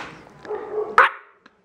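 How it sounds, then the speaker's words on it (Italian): A dog gives a single short, sharp bark in a domestic setting, preceded by a brief whining yelp, loud and close, with a faint click trailing after. "Oh madonna, chi è che abbaia?"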